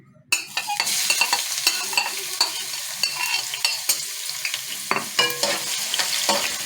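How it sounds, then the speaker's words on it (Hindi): Two small chopped onions frying in oil, a crackling sizzle broken by repeated scrapes and clacks of stirring, close and moderately loud with no voices. "इसी ऑयल के अंदर ये मैंने 2 स्मॉल साइज के प्याज लिए हैं जिनको चॉप कर लिया है"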